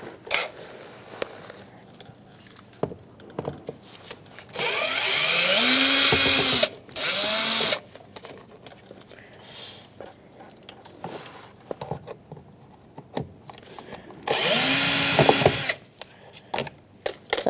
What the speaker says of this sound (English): I'm going to use my drill for that.